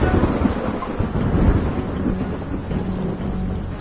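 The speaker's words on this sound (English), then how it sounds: "Oh, and there was a storm." A thunderstorm rolls over a rough sea at a container dock in the game Unmetal, with dense, loud rumbling thunder and heavy rain hissing without pause.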